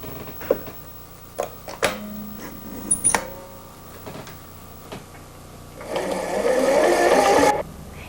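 A Studio DL 1000 linking machine joins lace to knitted fabric, giving scattered mechanical clicks and knocks before a steady, close whirring run of about two seconds near the end.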